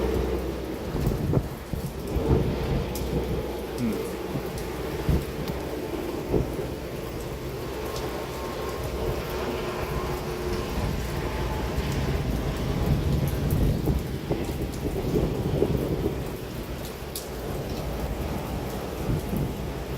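Steady rain pours during a severe thunderstorm in Stockbridge, Henry County, Georgia, with continuous low rumbling thunder and gusty wind noise throughout, no voices.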